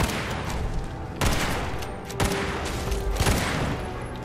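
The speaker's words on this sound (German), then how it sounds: "Ich schieße mal ins Bein." Rapid gunfire in Fallout 4 Nuka World, a dense barrage of loud shots with a few heavier cracks standing out, continuous and close throughout.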